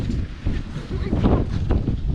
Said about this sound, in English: That's windy. Look, the box is blowing away.